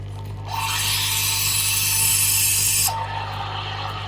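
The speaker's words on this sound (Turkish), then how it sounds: "Evet şimdi süt ısıtıyorum." A Nespresso Creatista Pro coffee machine heating milk gives a loud, rushing hiss for about two and a half seconds over a constant low machine hum, and the hum carries on after the hiss stops.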